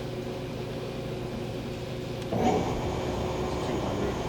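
A Clausing-Colchester 21-inch by 120-inch CNC/manual gap bed lathe spindle spins up in the medium range. A faint steady hum is followed by a sudden rise into a louder continuous mechanical whir with a few tonal whines, close by.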